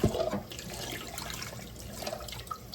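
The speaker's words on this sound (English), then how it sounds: "Adding the boiled eggs and cold water to them" Cold water running into a pot of boiled eggs, a steady splashing pour close by that starts strong and settles into a continuous gush, with no speech.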